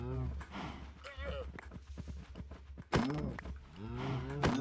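Cows in the Minecraft game low and moo in short bursts while fleeing, with a steady game backdrop and someone talking over much of it.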